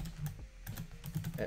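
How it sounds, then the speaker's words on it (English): Quick keystrokes on a computer keyboard while entering a login command in a Linux terminal, a steady run of close, crisp taps with faint room hum and no talk. "So what we're going to do is type bandit zero"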